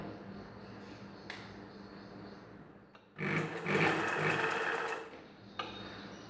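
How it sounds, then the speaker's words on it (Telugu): A sewing machine stitching a back-open blouse runs in one steady, fairly loud burst of about two seconds. A quiet stretch comes before it and a brief stop follows, with a few small mechanical clicks around it. "కుట్టేటప్పుడు కొంచెం నెమ్మదిగా కుట్టుకోవాలి."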